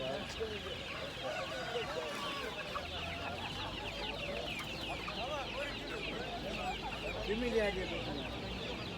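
Hens and a rooster at a Kastamonu Taşköprü poultry market cluck steadily and densely throughout, close and continuous, with market chatter and voices mixed underneath.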